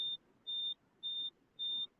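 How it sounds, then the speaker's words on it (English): Four evenly spaced high-pitched electronic beeps, each about a quarter second long, repeating steadily over a quiet background. "That beeping is driving me crazy."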